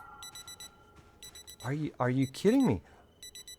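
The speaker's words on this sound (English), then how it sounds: "It's an alarm, okay?" Bursts of quick, high electronic beeping from a watch alarm in Project Zomboid repeat through the scene, briefly paused while someone speaks over it before resuming.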